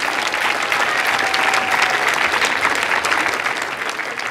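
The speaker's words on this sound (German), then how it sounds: "Bitte ihren Applaus." A science slam crowd applauds: loud, continuous clapping from many hands filling the hall at an even, sustained level for several seconds with no break.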